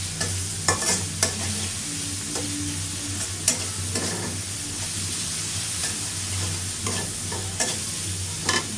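Shrimp fry in a pan with a steady, close sizzle, while a utensil stirs and scrapes them in scattered bursts throughout.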